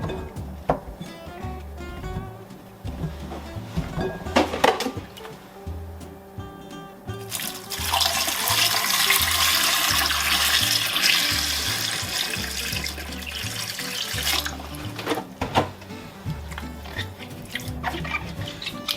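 Pickling cucumbers rinsed under a running kitchen tap, water splashing and trickling into the sink with a louder rushing stretch midway and small handling knocks throughout.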